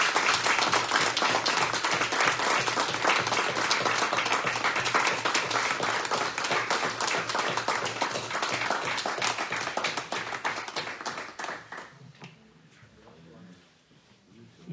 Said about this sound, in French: j'aimerais que nous applaudissions chaleureusement en guise de remerciement Madame